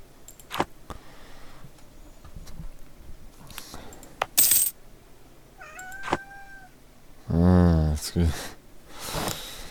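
A cat meows a couple of times, including a drawn-out, wavering call, among scattered clicks and light knocks, with faint talking in the background.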